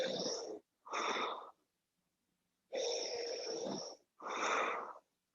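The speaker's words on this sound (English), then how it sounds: "Inhale and exhale." Deep breaths drawn in and out during a yogic breathing exercise, four close, airy breaths in two pairs with a long silent pause between them, each breath slightly wheezy and heard alone.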